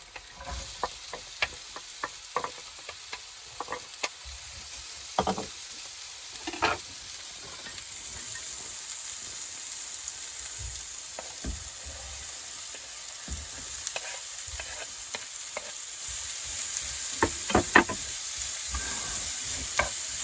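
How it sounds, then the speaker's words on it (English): Onions and peppers sizzle and crackle steadily in chili oil in a pan inside a van, with scattered stirring clicks and small pops over a continuous frying hiss. "I'm going to put the onions and the peppers in now."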